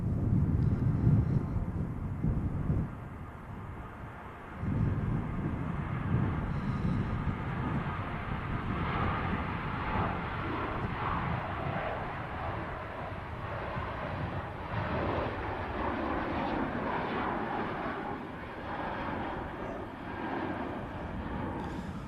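A Ryanair jet departs Manchester Airport for Tirana, heard as a continuous low jet rumble over gusty wind buffeting the microphone, louder at first, then dipping briefly and holding steady.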